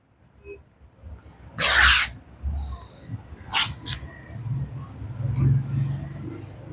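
Thick silk fabric is torn by hand in a few loud ripping bursts, one long rip followed by shorter tears, close up, with quieter handling noise between them.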